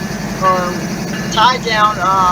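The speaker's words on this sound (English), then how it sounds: "Manifest train." A manifest freight train rolls past on an evening in Lansdowne, Maryland, a steady mechanical rumble and rail noise close by, with someone talking over it.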